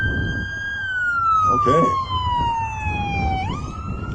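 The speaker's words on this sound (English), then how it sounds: "I think that siren was going like, yay" An emergency vehicle siren wails outside, one long tone sliding slowly downward and then jumping back up, loud and steady, while a voice speaks a single word briefly underneath.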